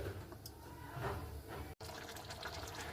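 Jackfruit and potato boil in a covered pot over a high gas flame, giving a steady, full bubbling and hissing wash that runs throughout, broken only by a momentary cut.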